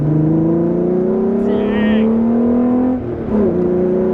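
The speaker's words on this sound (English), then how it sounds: "Alright, so we'll go first gear, second gear, about 3 grand, and floor it." A car fitted with a new performance chip launching at full throttle, engine revs climbing loudly through first and second gear with a brief dip at the shift, close and powerful.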